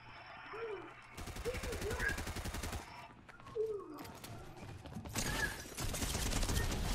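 Rapid SMG bursts crackle in Fortnite Reload Squads at Tilted Towers, several quick fusillades separated by pauses, with mechanical clanks and faint game sounds between.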